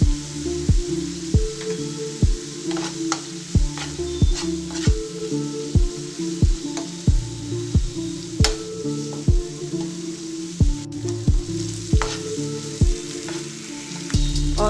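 Onion paste with turmeric frying in a pan for a broad bean masala curry, a loud steady sizzle under a regular ticking, clattering rhythm of quick repeated knocks throughout.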